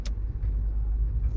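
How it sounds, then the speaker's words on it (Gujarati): A police Scorpio SUV rolls up close by, its engine producing a low, steady rumble that holds for the whole brief moment with no talking. "પણ તાર જોડે ને એ પોલીસની ગાડી આવી. યહી પોલીસની ગાડી."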